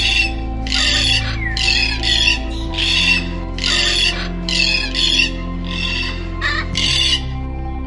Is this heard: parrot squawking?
yes